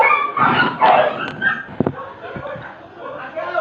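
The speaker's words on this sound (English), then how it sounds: "As the dogs fight for food outside" Dogs snarl, yip and whimper while fighting over food outside, a close, loud scuffle of canine noises with a voice heard briefly.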